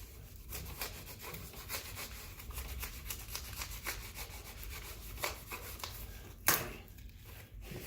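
Putty knife scraping along a wood panel board while removing a vehicle headliner around a roof rack cutout, a series of quick rasping strokes close by, ending with a sharp crack.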